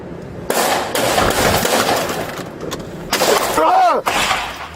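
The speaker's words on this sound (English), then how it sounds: "Shots fired! Shots fired!" Sharp gunfire bursts during a police encounter in a manhunt, a loud crack near the start and another cluster of shots later, amid chaotic shouting and commotion.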